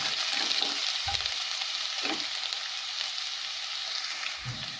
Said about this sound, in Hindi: अब मैं इसमें गाजर को डाल दूंगी। गाजर को हमको 2 मिनट तक अच्छे से भूनना है।